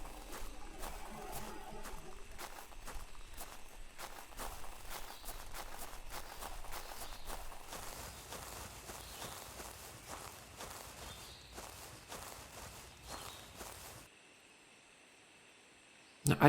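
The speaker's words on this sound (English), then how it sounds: "No, just my own footsteps." Footsteps of a player character in a prehistoric hunting video game, a steady run of dense, fairly close steps for about fourteen seconds before dropping to quiet ambience.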